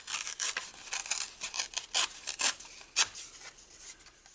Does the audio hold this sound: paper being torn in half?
yes